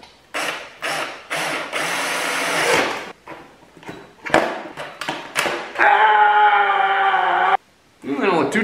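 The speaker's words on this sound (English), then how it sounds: "Alright, I think we are ready to drill some holes." Drilling holes in a motorcycle fender bracket while fitting a high fender kit to a Yamaha TW200: several short drill bursts, then a longer steady whine, loud and close, with brief pauses between runs.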